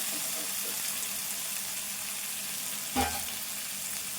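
Ivy gourd frying in oil on a low flame gives a steady soft sizzle close to the pan, broken once by a short scrape or clatter of stirring.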